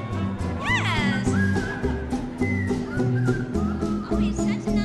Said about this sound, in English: he's such a nice whistler.